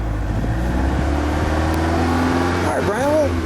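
Four-cylinder engine of a 1986 Chrysler LeBaron Town & Country convertible running at a steady idle, loud and close, with a slight rise near the end and voices talking over it.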